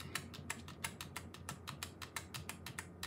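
Someone rapidly and repeatedly taps the delete key on an RGB computer keyboard while a PC reboots into the BIOS of a Biostar motherboard, producing around fifteen quick, crisp clicks in an uneven rhythm, close up and with no talking.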